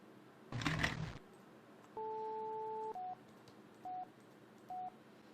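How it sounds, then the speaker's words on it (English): In the Police Quest 1 VGA game, a burst of rapid phone-dial clicks is followed by a long two-tone dial tone, then short evenly spaced busy-signal beeps, clean and synthetic over a faint background hum. "You got a busy signal."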